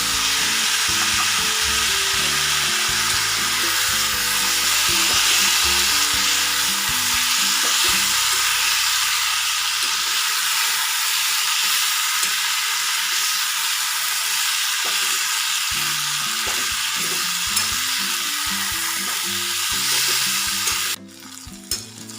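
Fried prawns sizzle loudly with vegetables in a pan, a dense, close, hissing fry that holds steady for a long stretch, with occasional stirring scrapes and a brief drop near the end.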